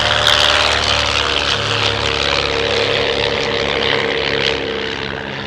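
Light propeller aircraft flying in formation at an airshow, a steady loud drone of engines passing overhead, continuous for several seconds and easing slightly toward the end.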